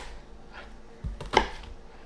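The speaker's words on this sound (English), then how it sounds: "I'm taking this onion, it's kind of a quarter of an onion, and I'm chopping it into smaller sections" A knife cuts through a quarter onion on a cutting board in a home kitchen, making a couple of dull, close taps followed by one sharper chop.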